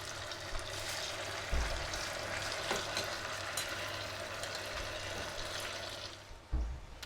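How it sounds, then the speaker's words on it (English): Chips frying in hot oil at about 170°C, a steady bubbling sizzle throughout with a couple of louder splashes and bumps as they are stirred, no talking. "I'm just going to put in our chips or fries."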